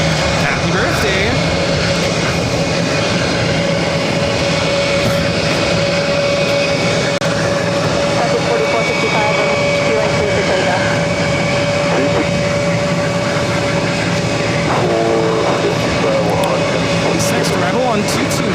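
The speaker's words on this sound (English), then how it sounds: "JetBlue Airways Flight 400 coming in from New Orleans on an A320-300" JetBlue Airways Airbus A320-300 arriving at Boston Logan from New Orleans, a loud continuous engine drone with steady tonal whine, close and sustained, with voices talking over it at times.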